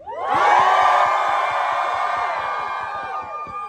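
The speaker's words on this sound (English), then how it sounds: "Let me hear some loud screaming." A crowd screams loudly at a Day of Vengeance 2023 rally, one long, sustained roar of many voices that swells quickly, holds near and loud, then fades slightly at the end.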